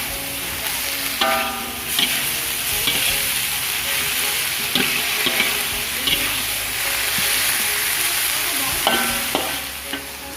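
Cassava and papaya leaves are stir-fried for rumpu rampe: a steady sizzle with repeated scraping of a spatula against the pan in irregular strokes, close and fairly loud, with no voices.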